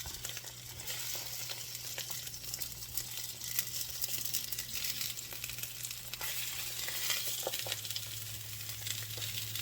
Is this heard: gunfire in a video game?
no